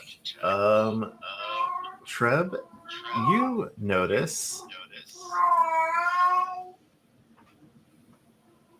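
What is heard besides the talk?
cat screaming in the background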